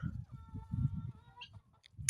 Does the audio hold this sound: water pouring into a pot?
no